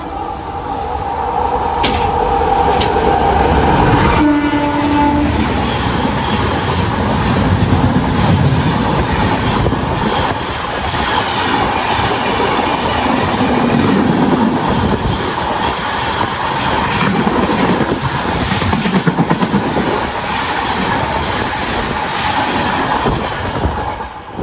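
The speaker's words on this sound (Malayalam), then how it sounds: "എറണാകുളം പൂനെ സൂപ്പർ ഫാസ്റ്റ് വരുന്നുണ്ട്." Ernakulam–Pune Superfast hauled by a P4 electric locomotive rushes past a trackside spot near Bekal Fort. Loud, sustained rumble and rhythmic wheel clatter build over the long pass, with brief metallic squeals and no talk.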